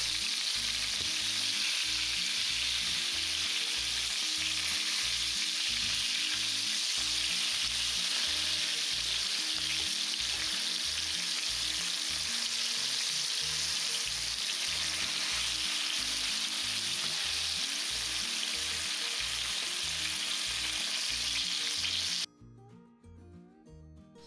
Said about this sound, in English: is just frying up these chicken pieces